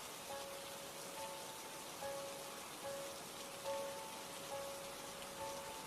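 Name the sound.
rain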